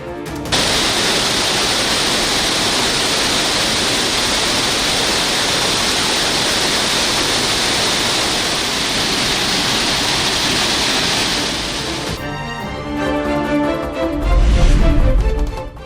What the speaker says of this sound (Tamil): கனமழை காரணமாக ஆர்ப்பரித்து கொட்டும் ஹூகோ அருவி